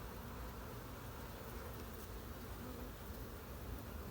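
Honey bees humming in an open hive during a hive inspection, a dense steady buzz that fills the space evenly, close and continuous with no voices.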